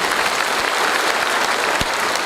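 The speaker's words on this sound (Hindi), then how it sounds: "पटना वासी के लिए, पटना के लिए एक बार जोरदार ताली होनी चाहिए पटना के लिए।" An audience at a business gathering in Patna gives loud, continuous applause, a dense crowd of clapping hands heard close and steady throughout.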